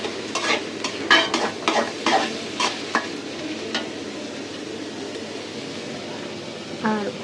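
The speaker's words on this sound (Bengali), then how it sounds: "দিয়ে দিলাম পেঁয়াজ, এই চুলায় তো বাইলা মাছ রান্না করব।" Onions sizzle and fry in a pan on a home stove before baila fish is cooked, with a steady crackling hiss broken by a few sharp utensil clinks and a brief voice at the end.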